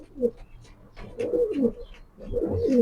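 Racer pigeons coo in short, throaty rolling bursts, close and fairly loud, with two or three repeated calls and no talking.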